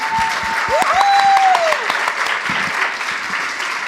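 A crowd claps steadily at a Dr Jane Goodall conference, a dense wash of applause from a large audience, with a brief whistle cutting through near the start.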